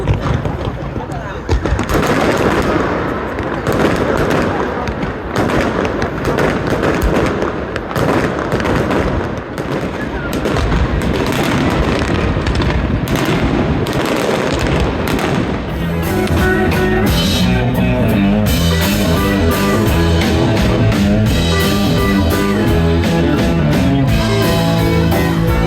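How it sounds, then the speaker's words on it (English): Fireworks bursting over Sydney, a dense, continuous barrage of booms and crackles that stays loud throughout, with crowd noise and music-like tones building in the later part. "Welcome to Sydney. We got some fireworks."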